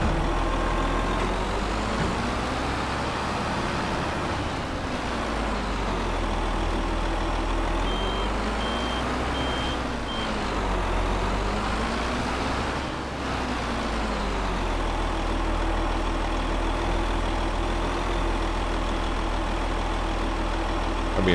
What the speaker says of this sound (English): fold up the harvester itself while I'm driving it on in